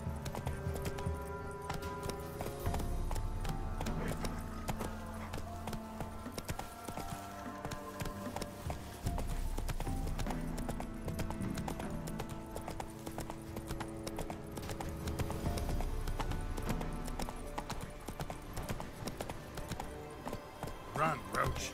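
A horse gallops in The Witcher 3, its rapid rhythmic hoofbeats pounding steadily throughout alongside game music, with a voice speaking over it.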